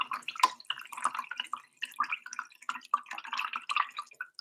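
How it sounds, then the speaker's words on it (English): A paintbrush is swished and rinsed in a cup of water at a paint night, giving soft, close, intermittent drips, splashes and light sloshing at low volume throughout. "I'm gonna rinse my brush out."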